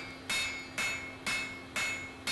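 A blacksmith hammers a borax-fluxed forge weld on an anvil while making an Anglo-Saxon adze, five loud, evenly spaced ringing blows at a steady rhythm, close and alone.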